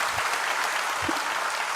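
A congregation claps hands together in dense, even applause during a Jain sermon by Acharya Vidyasagar in Dongaon, filling a short burst.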